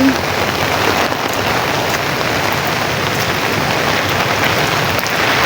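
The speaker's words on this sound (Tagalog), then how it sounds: "Ang lakas ng ulan." Heavy rain pouring steadily during a storm, a loud, dense, unbroken hiss of drops on surfaces with no talk.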